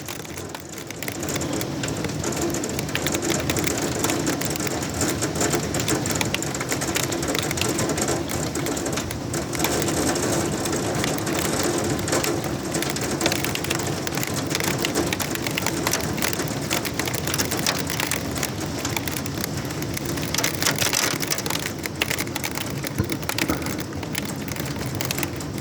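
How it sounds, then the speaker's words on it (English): Heavy thunderstorm rain pours down in a dense, steady, loud roar of hissing and spattering drops that continues without a break, with no talking over it. "Now we're in the thunderstorm."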